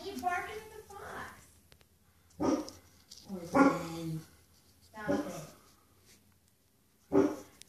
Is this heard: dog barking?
yes